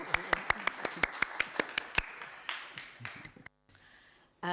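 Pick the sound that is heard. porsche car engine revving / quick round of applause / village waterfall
quick round of applause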